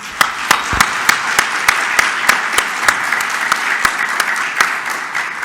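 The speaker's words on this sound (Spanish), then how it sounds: "Les damos un aplauso." Audience applause at the close of a conference session on antimicrobial resistance in critical care units, a steady bed of clapping with distinct sharp individual claps standing out in a loose rhythm, moderately loud throughout.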